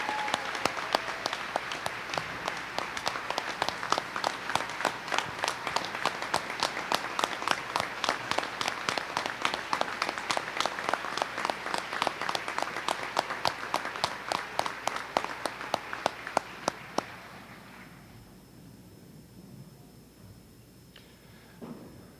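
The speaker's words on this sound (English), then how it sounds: "Please join me in a round of applause." A large audience applauds steadily and loudly for about seventeen seconds at a high school graduation, then the clapping stops abruptly, leaving quiet room tone.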